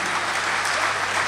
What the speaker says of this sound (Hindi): देर तक ताली बजनी चाहिए दोस्तों।